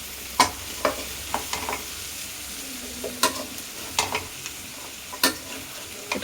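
Chickpeas stirred and frying in a wok, with a steady sizzle under sharp, irregular scrapes and clacks of the spoon against the pan, close and alone without speech.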